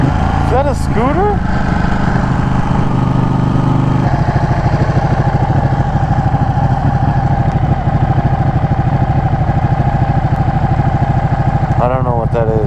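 A motorcycle engine idles steadily and loudly up close, with a constant low rumble, while people talk over it.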